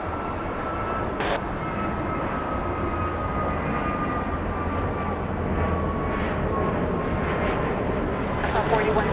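American Airlines jet taking off from LAX, a continuous loud engine roar that holds steady throughout, with faint radio chatter mixed in.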